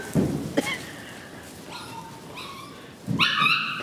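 Eight-week-old puppies bark and yip in high, thin, sharp bursts, spaced apart with short whimpering cries between them, close by over a steady background hiss.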